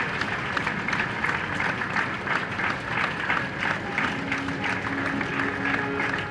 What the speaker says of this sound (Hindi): ताली बजा करके करध्वनि से उनका स्वागत करें, सम्मान करें